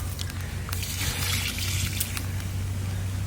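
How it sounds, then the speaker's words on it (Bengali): Water trickling and splashing while hilsa fish is rinsed in a kitchen, a steady close pour with light sloshing, no talk. "সুন্দর করে ইলিশ মাছ ধুয়ে নিলাম।"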